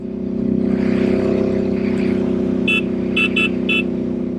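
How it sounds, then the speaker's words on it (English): Royal Enfield Interceptor 650 custom motorcycle fitted with a Dustline exhaust pipe, running with a steady, full engine drone throughout, joined near the end by a few short, sharp beeping tones. "Oh, that pipe makes some good noise."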